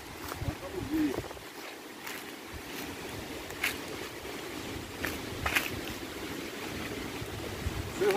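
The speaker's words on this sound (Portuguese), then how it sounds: "Vocês já podem avistar aqui a cachoeira nessa localidade." Water at the Santa Luzia waterfall in Viçosa, Alagoas rushes in a steady, even hiss heard from a distance, while someone talks over it.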